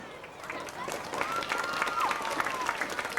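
Applause from a sizable audience at a high school football homecoming court presentation swells and continues steadily, with a voice faintly audible over the clapping.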